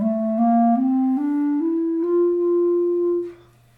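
A muffled, soft single-reed tone damped by a relaxed lip hugging the reed, rising in small steps, dull with little brightness, then fading out.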